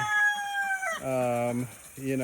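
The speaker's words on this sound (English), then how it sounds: "that's a little rooster crowing." A young rooster crows nearby in a garden with a chicken run, giving a strained, breaking crow followed by two more drawn-out harmonic calls.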